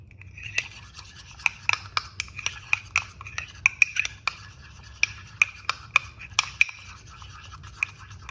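A spoon mixing a small bowl of sauce with prepared horseradish and a teaspoon of ketchup, producing a steady run of sharp clinks and scrapes against the bowl, close and fairly crisp, with no talk.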